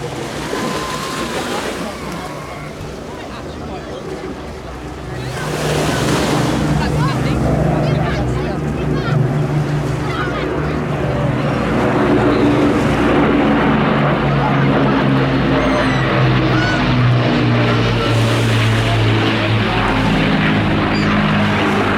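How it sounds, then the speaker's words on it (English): Avro Lancaster bomber from the Battle of Britain Memorial Flight making a flypast at a seaside airshow, a loud sustained piston-engine drone swelling after a few seconds and holding steady, with surf and wind noise underneath. "the wonderful engine sound."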